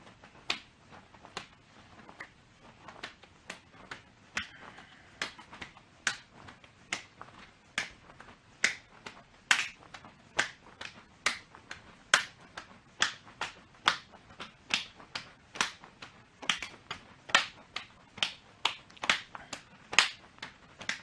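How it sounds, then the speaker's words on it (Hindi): Sharp hand claps repeat at a steady, brisk pace for about twenty seconds, each clap made overhead during jumping jacks in an exercise routine, fairly close and moderately loud with no talking. "इसके बाद हम दोनों पैरों को जंप के साथ खोलेंगे और हाथों से ऊपर की तरफ ताली बजाएंगे, जिसको जंपिंग जैक्स बोलते हैं।"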